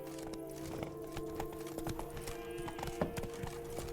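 The horse Roach gallops in The Witcher 3, with a continuous rhythm of crisp clip-clopping hoofbeats over a steady ambient game backdrop, close and even throughout.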